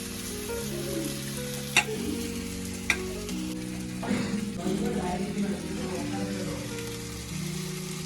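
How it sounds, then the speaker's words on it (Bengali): Lentils frying in ghee in a pan, a continuous close sizzle with stirring scrapes and two sharp metallic taps early on, and a steady hum running underneath throughout. "তো ডালটা হালকা করে ভেজে নিই"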